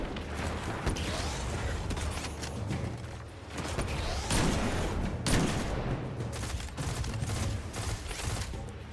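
Destiny 2 hand cannon gunfire in a Grandmaster Nightfall fight, heavy shots booming amid dense continuous battle noise, with a few sharper blasts standing out.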